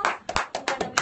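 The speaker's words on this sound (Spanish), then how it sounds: "Un aplauso a los chamacos" Brief applause for the kids, a short burst of several close, sharp hand claps in quick uneven rhythm.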